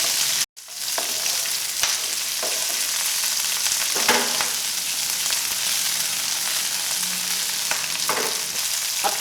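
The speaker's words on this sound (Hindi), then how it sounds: "सौते करेंगे।" Chopped onions and capsicum with kasuri methi sizzle loudly in hot oil in a pan, a continuous close crackling fry broken by a few scraping stirs.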